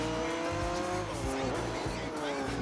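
Race cars in Gran Turismo 4 jostle to overtake on the Monaco street circuit, their engines droning loudly and continuously with rising and falling pitch as they pass, with tire squeal mixed in.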